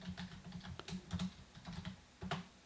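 A password is typed on a computer keyboard as a quick run of soft key clicks in an uneven rhythm, close and quiet, with no voice.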